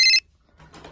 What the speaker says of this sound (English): No, my phone's ringing.